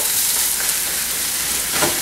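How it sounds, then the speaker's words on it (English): Cabbage fries in a non-stick skillet with a loud, steady hissing sizzle, close by, with a brief stir or scrape near the end and no voices. "Turn it down a little bit lower because it's starting to stick a little bit, even in my non-stick skillet."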